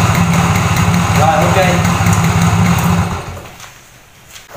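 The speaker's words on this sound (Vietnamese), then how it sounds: "Nó cái tiếng bô nó rất là êm nha các bạn" Simson S51 motorcycle idling with an MZA exhaust tip, heard up close at the pipe as a smooth, steady low putter that fades away after about three seconds, leaving quiet with a faint bump at the end.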